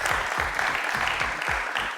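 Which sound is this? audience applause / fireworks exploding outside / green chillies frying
audience applause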